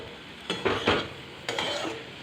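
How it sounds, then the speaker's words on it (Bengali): Chopped onion, ginger, garlic and tomato with salt and turmeric fry in oil for tadka dal, a close sizzling hiss broken by several scraping stirs of a spatula in the pan. "পেঁয়াজ কুচি, আদা রসুন কুচি, টমেটো কুচি, নুন হলুদ দিয়ে সবটা একটু তেলের মধ্যে নাড়াচাড়া করে নেব, একটু ভেজে নেব।"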